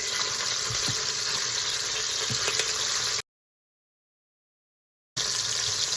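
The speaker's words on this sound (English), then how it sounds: "we're going to sear them until they're browned up and flip them over and sear them on all sides" Beef short ribs sear in an Instant Pot for Korean short ribs with a steady, even hiss of hot fat. The sound drops to total silence for about two seconds, then resumes.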